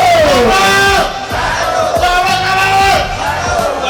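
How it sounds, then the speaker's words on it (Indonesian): At a campaign rally for a winning-team inauguration, a large crowd shouts a word of victory in unison, loud and sustained, with voices swelling and overlapping in a continuous roar. "Satu semua teriak menang"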